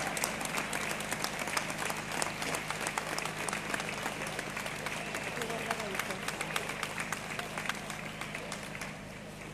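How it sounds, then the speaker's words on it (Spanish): Crowd applause at an outdoor protest rally by hospitality, gym, travel agency, entertainment and retail workers, a sustained, dense clatter of many hands with sharp individual claps, steady for several seconds and slowly thinning. "¡Un aplauso para vosotros!"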